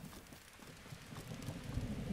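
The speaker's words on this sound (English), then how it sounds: "Oh, what happened? It's raining." Rainfall in The Legend of Zelda: Breath of the Wild, a soft steady wash of rain on surfaces, faint and unbroken, with no talk over it.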